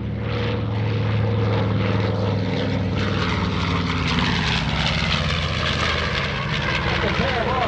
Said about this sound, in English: Now watch this level bomber run as Larry brings Panchito around the left-han